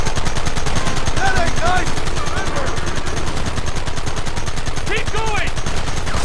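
Gunfire in the Red Dead Redemption video game on PS4: a dense, continuous barrage of shots runs throughout, loud and close, with people shouting over it.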